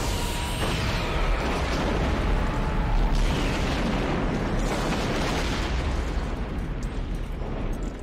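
A Star Trek VI Khitomer space battle with starship weapons fire and explosions: a dense, steady rumble of blasts and bursts that rolls on for several seconds, loud and unbroken, without speech.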